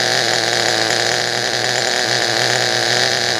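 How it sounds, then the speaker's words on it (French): A nitro glow-fuel engine on an RC car runs steadily after starting, a loud, continuous buzzing drone with a dense, unbroken tone and no talking over it. "le moteur a démarré, donnez quelques brefs coups de gaz pour vous assurer que le moteur ne cale pas"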